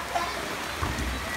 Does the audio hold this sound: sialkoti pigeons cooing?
no